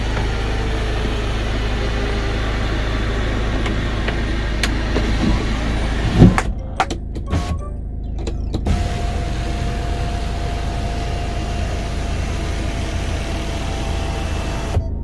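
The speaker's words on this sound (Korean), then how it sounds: "환하게 열리는 썬루프 부드럽게 지금 열리고 있습니다" A steady electric motor hum runs throughout as the sunroof of a Kia Carens opens, with a few clunks and mechanical clicks in the middle as the motor keeps whirring.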